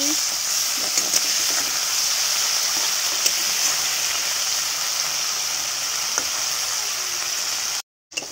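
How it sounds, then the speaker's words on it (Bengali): Prawns frying in oil in a pan, a steady loud sizzle that holds unbroken throughout, with faint clinks and stirring scrapes, then a brief dropout near the end. "আর এদিকে চিংড়ি মাছটা ভাজি করছি।"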